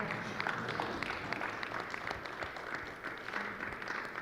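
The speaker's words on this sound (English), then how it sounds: "Come on, let's give him a round of applause." Audience applause at a business summit session, a continuous spread of clapping from a seated crowd, moderately loud and steady with scattered individual claps standing out.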